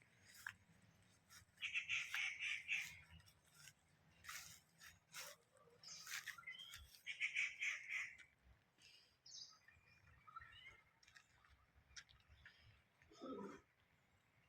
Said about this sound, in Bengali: আপনারাও কিন্তু ময়ূরের ডাক শুনতে পাচ্ছেন